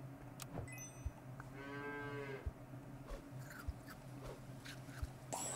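A cow in the video game Super Auto Pets gives a single drawn-out moo, clear against a quiet game background with a few soft clicks around it.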